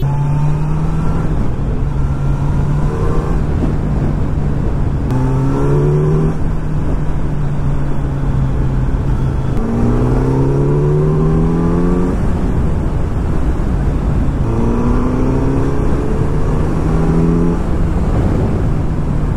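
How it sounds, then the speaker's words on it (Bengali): A Kawasaki Z900 motorcycle accelerates hard along a road, the engine note climbing through repeated rising gear pulls, each followed by a brief drop at the shift, loud and close over continuous wind rush. "সেখানে একটু স্পিড আপ করে বাইকটাকে ঠান্ডা করে নিই"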